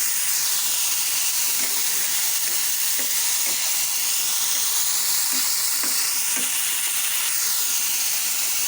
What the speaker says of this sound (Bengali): আলু আর মটরশুটিটা ভালো করে ভেজে নেবে